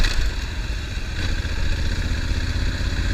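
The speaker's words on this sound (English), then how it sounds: "Enjoy this ride on the Africa Twin." A Honda Africa Twin motorcycle engine running steadily during a ride, a loud close mid-pitched rumble with a slight rise in revs and no speech.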